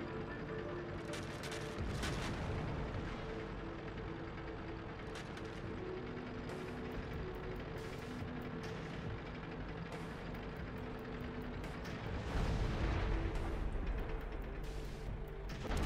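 An Object 268 tank destroyer firing its gun in World of Tanks: a few sharp, booming shots spaced apart over a low game background, with the loudest blast near the end.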